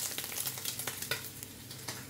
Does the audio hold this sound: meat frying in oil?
yes